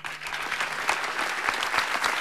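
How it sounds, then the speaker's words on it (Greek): A crowd of people claps spontaneously for a man named Mario, dense steady applause holding at an even level throughout, close and continuous with no talk over it. "Όπως βλέπετε, το χειροκρότημα είναι αυθόρμητο από τους ανθρώπους."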